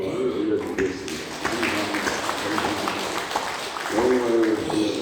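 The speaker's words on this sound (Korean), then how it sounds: "우리 하나님께 감사와 찬송과 영광의 박수를 올려드리겠습니다." A church congregation applauds during a Sunday worship service, a steady wash of many hands clapping that swells toward the end, heard beneath people talking.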